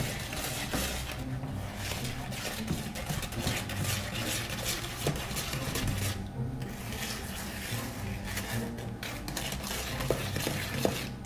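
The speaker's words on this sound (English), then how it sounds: "And mix some eggs and vanilla." Eggs and vanilla being whisked for butterscotch cookie bars, a steady close scraping and stirring against a bowl that carries on throughout, with occasional light clinks of a utensil.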